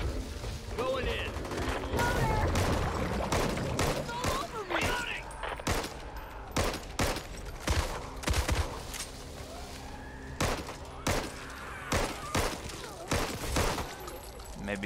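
Repeated SMG fire in the zombie shooter Back 4 Blood: sharp, loud bursts of rapid shots in uneven rhythm, mixed with other in-game action and occasional player talk beneath.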